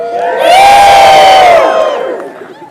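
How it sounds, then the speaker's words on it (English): A large convocation ceremony audience lets out a loud, swelling cheer with many shouting and whooping voices together. It rises quickly, holds for about a second, then fades out. "Everyone cheer."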